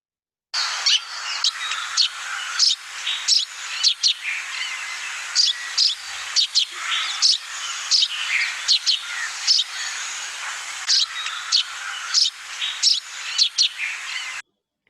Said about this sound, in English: I'll play the call of the sparrow.